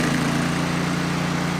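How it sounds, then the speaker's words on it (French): A thermal wood chipper engine runs at full throttle, a loud, steady, close hum with a strong low tone and no variation over a short stretch, with no voices. "Montez le régime moteur au maximum."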